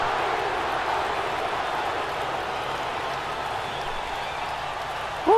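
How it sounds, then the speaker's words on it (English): A wrestling video game crowd roars in a steady, dense wash of noise that holds evenly throughout, with a brief swell right at the very end. "And the crowd goes crazy once again."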